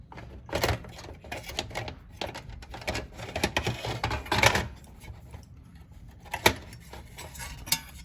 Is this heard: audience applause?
no